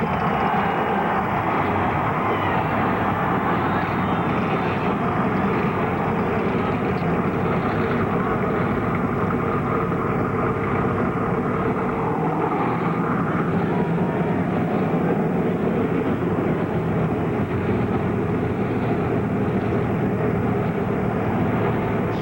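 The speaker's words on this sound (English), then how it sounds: "Gentlemen, start your engines." A field of NASCAR Busch Series race cars idles together before the Funai 250 at Richmond in 2002, a dense, continuous engine roar that holds loud and steady throughout with no speech.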